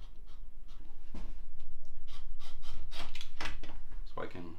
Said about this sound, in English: And now I will just rough cut it out